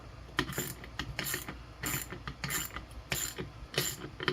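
Ratcheting clicks in quick bursts as a bolt is tightened into a Mossberg International Gold Reserve shotgun stock, close and fairly loud, repeating in short rhythmic runs without talk.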